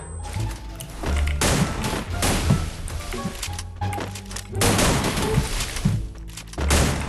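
Rapid bursts of gunfire and impacts crackle through a one-on-one video game shooting match, loud and close in repeated volleys with brief pauses between, over a low game soundtrack.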